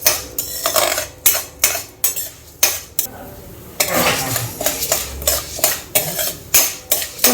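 A spoon stirs toor dal frying on a low flame, scraping and clinking against the pan in a loud, close, regular rhythm, with a brief lull partway through.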